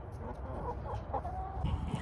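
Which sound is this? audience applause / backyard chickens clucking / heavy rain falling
backyard chickens clucking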